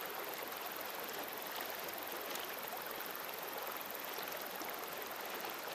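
Steady, continuous rush of flowing water from a stream in the video game Days Gone, an even broadband wash that stays constant throughout with no voices.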